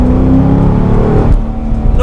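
A Corvette C6 with an LS3 V8 holds a loud, deep, steady rev up close, its low rumble then easing off slightly, with no speech over it.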